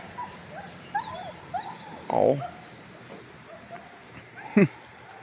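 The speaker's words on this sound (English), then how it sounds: "Dogs." A dog whimpers and yips in short high cries, with a louder whine partway through and another sharp yelp near the end, over faint background noise.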